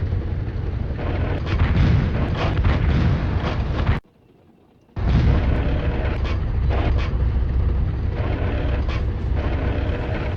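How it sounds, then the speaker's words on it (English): Tank cannon blasts in the Army Men: World War video game, a loud, dense barrage of rapid booms that runs continuously, breaks for about a second of near silence, then resumes just as heavy. "How fast you can shoot this. Can you imagine a tank shooting that fast?"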